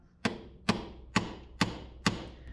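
Five evenly spaced, sharp metallic hammer blows on a solid carburetor bracket during a carb swap on a 1984 Toyota dually truck, each strike close and ringing briefly, with no talking.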